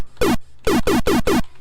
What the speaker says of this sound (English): Here's our laser.